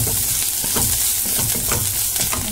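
Chopped onions with turmeric powder frying in a pan, a steady close, loud sizzle with faint stirring scrapes running throughout, no voices.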